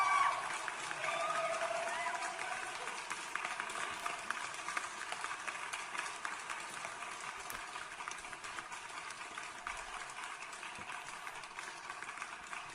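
A recorded applause sound effect plays back at low volume: a continuous, even wash of clapping that runs the whole length and slowly thins toward the end.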